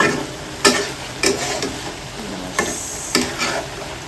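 A pan of food being stir-fried over medium heat, seasoned with spice powder and coriander leaves, gives sharp intermittent scraping and clattering strokes roughly every half second to second over a low, steady sizzle, with no talking.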